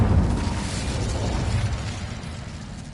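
An Incendio fire spell is cast in the video game Hogwarts Legacy, a loud, dense whoosh of flame that roars steadily for about three seconds and slowly eases off, with no voices.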